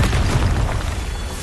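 A Confringo fire spell explodes in Hogwarts Legacy, a loud, deep booming blast that rumbles steadily throughout.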